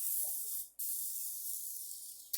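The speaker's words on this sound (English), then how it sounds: "I want to get it good and sprayed so that they don't stick to the pan." A hand-pumped oil sprayer mists oil onto a baking pan in a steady close hiss that cuts out briefly, resumes, and ends with a small spurt.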